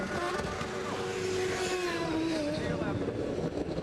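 A 2007 Champ Car race car roaring during a pit stop, a loud engine note sliding downward in pitch, with wind buffeting on the microphone and a commentator talking over it.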